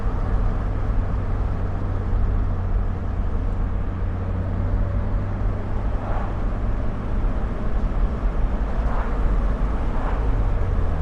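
A 2003 Toyota MR2 Spyder TRD with a 5-speed manual pulls hard between 5,000 and 6,000 rpm. Its engine makes a steady, dense drone with road rumble, heard continuously from inside the car.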